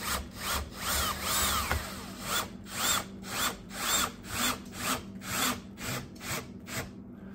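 On an Alaska homestead, a power drill drives a screw into a barrel stove, whining in about ten evenly spaced surges that are close and fairly loud, with no talking.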